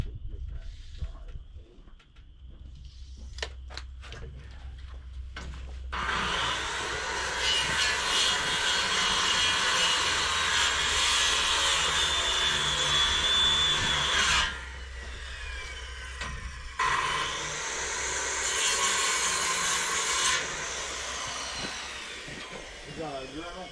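A Dremel rotary tool cutting in a garage, a loud continuous high-pitched whine running in two long bursts with a short pause between, while people talk nearby.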